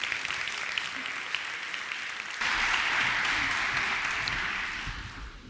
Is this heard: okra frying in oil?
no